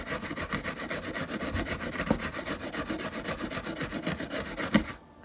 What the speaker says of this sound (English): just about 2 minutes scrubbing there